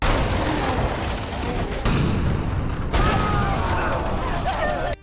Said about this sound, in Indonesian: kapal mereka ternyata dihujani meriam